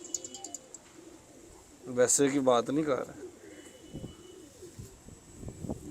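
Pigeons coo softly in the background of a pigeon loft while someone talks over them in Hindi-Urdu.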